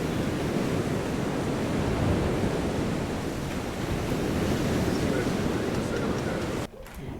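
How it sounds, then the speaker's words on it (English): Large ocean waves over eight feet tall crash against a pier in steady, loud, continuous surf with wind buffeting the microphone, the roar dropping off sharply just before the end. "The waves grew over 8 feet, crashing against the pier like no other."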